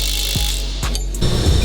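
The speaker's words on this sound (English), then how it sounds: "I got a 22 on my impact and a 22 mil wrench, and I'm gonna tighten up this lower control arm bolt" Impact wrench tightening a lower control arm bolt on a BMW E46, a loud mechanical rattle and buzz close by with sharp clicking bursts throughout.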